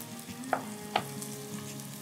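Finely chopped ginger and garlic with thyme and spices fry gently in oil, giving a soft, quiet sizzle punctuated by two crisp spoon taps against the pot.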